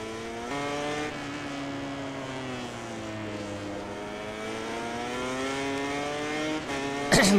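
A racing motorcycle in MotoGP 19 drones steadily at Misano, the engine pitch sliding through gear changes as it accelerates toward the line, with no talk over it.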